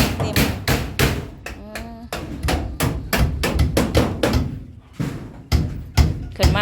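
Hammering nails into wood while building a wooden house: a rapid, irregular series of sharp close knocks, some in quick bursts, with a brief tonal squeak between strikes.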